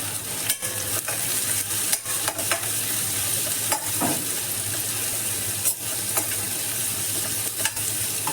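Onions sautéing in a pan for a mutton stew give a steady close sizzle, with scattered spoon scrapes and stirring clacks throughout and no voices.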